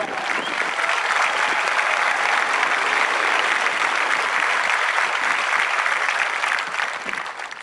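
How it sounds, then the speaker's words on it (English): A round of applause at an Air Force graduation ceremony, dense clapping from a large audience that swells, holds steady for several seconds and then fades. "How about a round of applause for you?"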